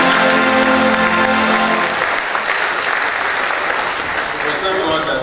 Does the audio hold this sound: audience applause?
yes